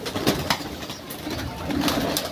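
Many pigeons coo while being fed bread outdoors, a layered low cooing from the flock with a few sharper flutters or pecks scattered through.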